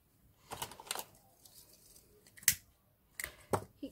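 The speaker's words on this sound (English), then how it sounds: "Cut that extra off." Scissors cut through satin ribbon while a hair bow is being made, giving several quiet, sharp snips spaced irregularly across a few seconds in an otherwise hushed room.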